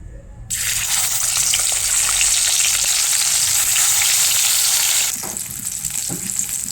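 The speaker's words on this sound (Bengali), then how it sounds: "কড়াইতে আমি তেল দিয়ে দিয়েছি, তেল আমার গরম হয়ে গেছে। এখন আমি মাছগুলো ছেড়ে দেব।" Pieces of katla fish are dropped into hot oil in a kadai, setting off a sudden loud, close sizzle that roars steadily for several seconds before easing to a softer crackle.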